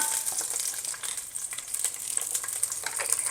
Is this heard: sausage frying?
yes